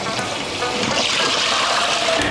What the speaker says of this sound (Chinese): 冲水